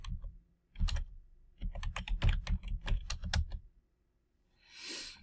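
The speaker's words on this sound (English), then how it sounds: "I'm just going to type in the IP address." Someone types an IP address on a computer keyboard in short, rapid bursts of close, crisp key clicks with brief pauses between them, followed by a soft rustle at the end.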